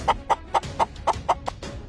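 A hen clucks in a steady series of about eight short, sharp clucks, evenly spaced and close by, with no talking.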